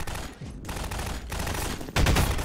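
Rapid automatic gunfire in Half-Life 2, loud and close, with continuous bursts that break briefly and then resume more heavily.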